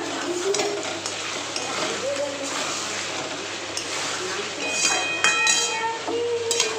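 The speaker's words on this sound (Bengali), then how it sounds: "আর চিকেনটা কষাচ্ছি" Chicken being sautéed in a pan for biryani in a home kitchen, with steady stirring and frying noise throughout, while household background sounds continue around it.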